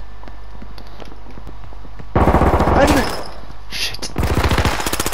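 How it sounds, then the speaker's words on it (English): Rapid automatic gunfire in the H1Z1 battle-royale game, loud bursts of shots crackling in quick succession after a quieter stretch, with a player's voice talking briefly over the action. "Oh my god, he almost shot me."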